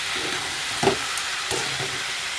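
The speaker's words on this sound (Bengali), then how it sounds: "এখন নুন হলুদ কাঁচা লঙ্কা পেঁয়াজ সব দিয়ে একবারে বসিয়ে দিই, একবারে ভাজা হবে" Fish oil and roe fry with onion, green chili, salt and turmeric in a pan, giving a steady close sizzle broken by a couple of brief stirring clinks.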